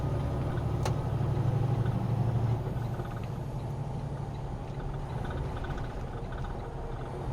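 A modified truck with a makeshift nine-speed setup runs its engine nearby, a steady low droning rumble that is slightly louder during the first few seconds and then settles to an even hum, with no talking.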